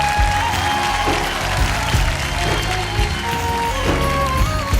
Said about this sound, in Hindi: चलो सब लोग ताली बजाओ